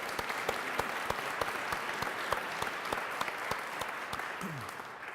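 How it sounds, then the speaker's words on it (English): Sustained applause from an audience at a military change of command ceremony, honoring an officer's family; steady, fairly loud clapping that continues throughout without a break. "Let's give the Threet family a round of applause."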